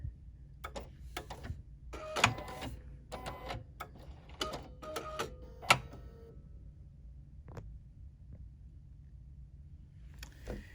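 A BERNINA sewing machine sews with a binder attachment, giving short bursts of fast mechanical ticking and clattering with pauses between, close and fairly quiet, no talk.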